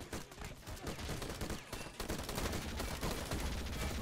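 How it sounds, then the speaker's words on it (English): Dense gunfire crackles in the war game Call to Arms, with rapid overlapping machine-gun bursts and shots forming a loud, continuous battle barrage. "I'm just going to gun those guys down there quickly."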